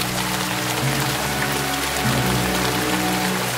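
Steady rain hisses across the whole scene in the Resident Evil 4 Remake video game, a dense, even wash with low droning tones underneath and no pauses.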